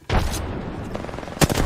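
Rapid bursts of gunfire from a video game, one dense volley running throughout and a sharper shot near the end, loud and close with no talking.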